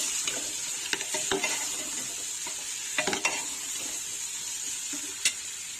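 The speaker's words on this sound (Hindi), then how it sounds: "अब हम मीट को मसालों के साथ अच्छे से भूनते हैं।" Mutton tossed with turmeric and spices in a pot gives a close, steady sizzle with several scraping stirs and light clinks of the spoon against metal, heard without talk.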